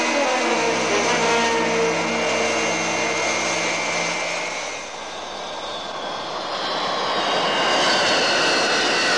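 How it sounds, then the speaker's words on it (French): A fixed-wing aircraft's engine drones loudly and steadily as the plane comes in to land at Lexfield, Canada, with a low pitch that shifts and dips briefly midway before swelling again; no voices. "Le colonel Freeman vient d'atterrir à Lexfield"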